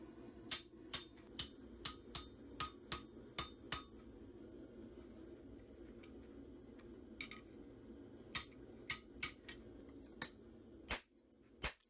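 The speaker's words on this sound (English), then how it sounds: "You can see I'm taking gentler blows, mostly, and really trying to refine the curve and the bevels on the edge a little bit" A hammer forges a steel bat'leth blade with lighter blows to refine the curve and edge bevels. Sharp, ringing strikes fall in an uneven rhythm, with a pause in the middle, over a low, quiet background hum.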